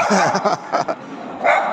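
Dogs barking and yipping in a city centre lit up for Christmas in Piacenza, Italy, a few short close barks in a burst with people talking and chuckling around them.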